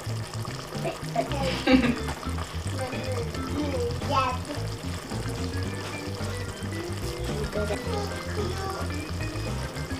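Coconut milk pours from a tin into a cooking pot, a soft gurgling pour heard under a child's and an adult's voices in a home kitchen.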